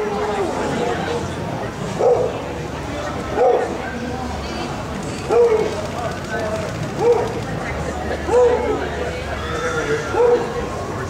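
Beagles barking in a dog show ring, Australian-bred class at the Sydney Royal: repeated loud barks and bays every second or two over constant crowd chatter and murmur.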